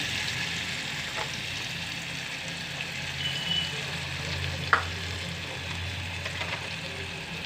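Chopped onions fry in a pan for an egg and potato curry, producing a continuous close sizzle with a few faint clinks and scrapes of stirring, with no talking.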